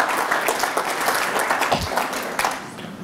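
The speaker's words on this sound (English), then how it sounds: "We'll give Colin a round of applause" Audience clapping for a man named Colin as he is called up at a live talk, a brief, fairly close burst of applause that thins out toward the end.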